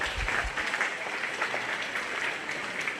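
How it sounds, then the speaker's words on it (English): Spectators at a 4-H/FFA sheep show clap for the young exhibitors, a moderate, fairly soft round of applause sustained evenly throughout. "give these kiddos a big round of applause"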